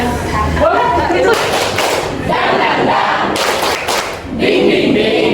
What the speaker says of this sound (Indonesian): kita tepuk semangat dulu deh